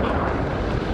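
A tanker truck explodes after a multi-car crash in Baton Rouge, Louisiana, giving a loud, sustained, rumbling roar that fills the whole moment without a break.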